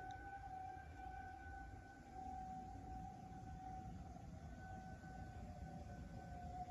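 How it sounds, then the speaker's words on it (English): A distant tornado siren sounding for a tornado warning in Oakland County wails steadily in a long sustained tone, faint and far off, with no voices. "tornado sirens are going off for a tornado warning in my county."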